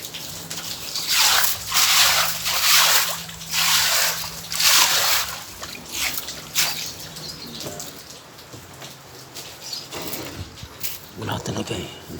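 Floodwater being swept in front of a house, repeated splashing, sloshing strokes in a loose rhythm, loud and close at first then fading to lighter swishes, with a voice talking at moments.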